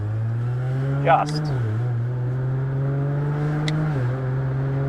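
Cabin drone of an 1100-horsepower, 9000 rpm, eight-speed all-wheel-drive Nissan Skyline GT-R on a street test drive, a steady low engine hum that dips briefly at gear shifts, with a few faint clicks and a voice talking at times.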